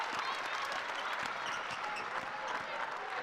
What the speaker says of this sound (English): she deserves every single one of these applause from all the Portland fans